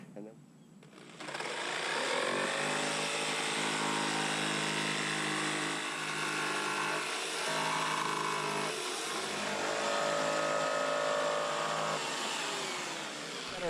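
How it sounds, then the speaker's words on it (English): A 10-foot length of 4-inch PVC drainage pipe is being cut in half lengthwise, giving a steady, buzzing, whining cut that runs unbroken for about twelve seconds, loud and near, with a slight waver in pitch. "this piece of drainage 4-inch PVC pipe that's 10 feet long. We're going to cut it in half"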